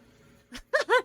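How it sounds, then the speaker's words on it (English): A cat meows close by: a short soft cry, then two louder rising meows in quick succession, heard alone. "The cat."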